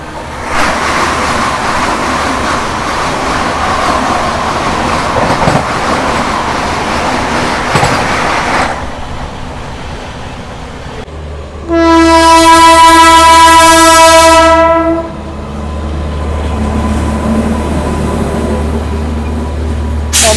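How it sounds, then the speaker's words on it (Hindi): From aboard an Amritsar Swarn Shatabdi train entering Ludhiana Junction, the Amritsar–Katihar Amrapali Express runs alongside. A loud, steady rolling rumble swells into a brief burst of bright, tonal rushing as the other train passes close by, then settles back. "बस अभी हम लोग एंटर कर रहे हैं लुधियाना जंक्शन पे, और बगल से निकल रही है आम्रपाली एक्सप्रेस"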